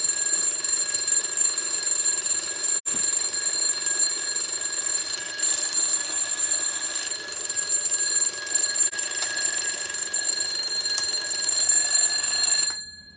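A green alarm clock from a batch of container goods rings continuously and loudly, a bright sustained electronic alarm tone with one short break, cutting off just before the end.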